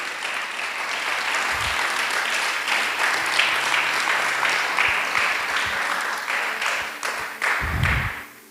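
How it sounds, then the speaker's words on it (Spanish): A church congregation applauds during a Spanish-language sermon, sustained mass clapping for several seconds with a couple of low thumps and a slight fade at the end. "Dele el aplauso al Señor"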